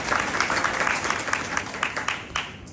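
An audience at a devotional talk on Lord Chaitanya claps together, a brisk, even stream of applause that holds steady throughout, with faint voices in the room beneath it.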